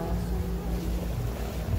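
Sailboat at sea with sails down, running under its engine: a steady low motor drone mixed with wind and water noise, brief and fairly quiet.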